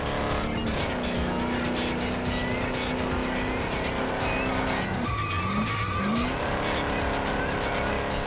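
A car in the racing game Ford Racing 2 brakes hard and skids into a corner, tyres squealing in a sustained screech over a constant roaring engine, with a sharper slide and a pitch drop partway through.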